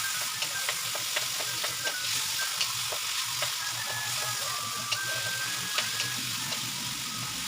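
Salted meat for pinakbet frying in a pan, a steady close sizzle with crackles and light pops throughout, along with a few soft scraping stirs.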